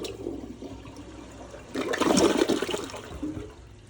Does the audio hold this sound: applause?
no